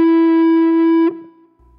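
Electric guitar from a solo rings out as one clear, sustained note for about a second before being cut short, leaving a faint tail. The playing is alone, with no talking.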